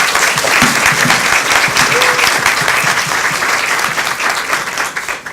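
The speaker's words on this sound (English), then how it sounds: "Can we give our panelists a round of applause?" Audience at a women-in-leadership series event applauding the panelists: sustained, dense clapping from a large crowd, loud and steady throughout, tapering slightly at the end.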